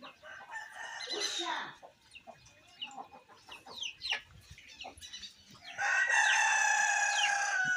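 Hens cluck and murmur in short bursts close by, with a louder, sustained squawking call near the end; no talking.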